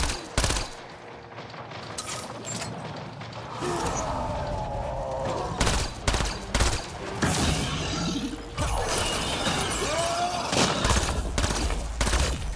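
Gunfire in the sci-fi shooter Mass Effect Andromeda crackles in repeated loud bursts and rapid volleys, broken by short lulls and mechanical clatter, with scattered heavy impacts throughout.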